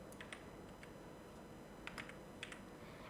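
A computer keyboard is heard faintly as a channel name is typed, with scattered light key clicks in short bursts over a quiet background hiss and no voices.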